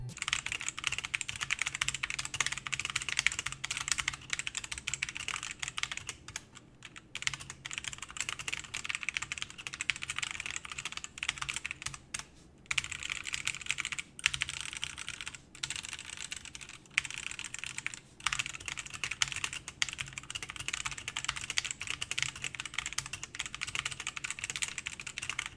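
Continuous fast typing on a budget keyboard used for osu!, with the microphone a few inches above it. The key clacks are dense and close and continue for the whole stretch, with a few brief pauses.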